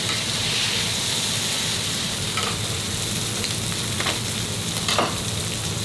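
Steak sizzles steadily on a restaurant grill, a loud continuous crackling hiss with a few sharper scrapes and pops, no speech.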